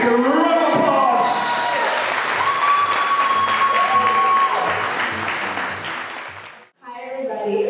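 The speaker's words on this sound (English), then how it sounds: "your hands together for a big round of applause" Loud, sustained applause from an audience at a celebration event, with a microphone voice over the opening seconds, then fading out before a brief return of clapping.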